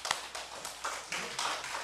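Scattered handclaps from a church congregation ring out in an uneven patter, fairly faint and distant, with no voices over them.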